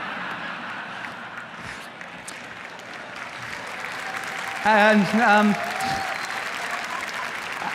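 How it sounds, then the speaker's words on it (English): An audience at a Google I/O Kotlin talk breaks into sustained applause, a dense wash of clapping that builds steadily; someone speaks briefly over it partway through. "I love it when people clap."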